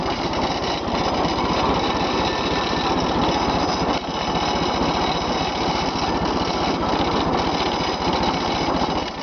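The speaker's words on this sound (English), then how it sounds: "This thing will just idle right down the road." A tractor engine idling up close, a loud, even, rapid chugging drone that holds steady throughout without voices.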